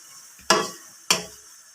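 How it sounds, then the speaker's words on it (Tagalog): Chicken sautéing with soy sauce and pepper in a pan, cooked outdoors in a field, gives two loud bursts of sizzling as it is stirred, each fading quickly, close up with no talk. "Lagyan natin guys ng toyo. Tiyagsahin lang."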